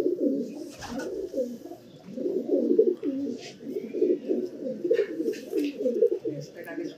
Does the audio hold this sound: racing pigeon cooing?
yes